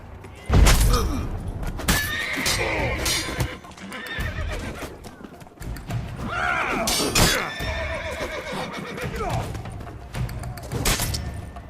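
Horses in The Witcher III: Blood and Wine video game whinny loudly several times over galloping hoofbeats and thuds, a busy, close chaotic scene of neighing and clip-clopping.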